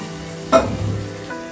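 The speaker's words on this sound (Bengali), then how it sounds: "তেল দিয়েছি তারপর পাঁচফোড়ন দিয়ে ফুলটাকে আগে একটুখানি হালকা করে ভাজা ভাজা করে নেব" Cauliflower florets frying in oil with panch phoron in a pan, a short sizzle that flares as food is stirred and then settles to a low hiss, close and alone.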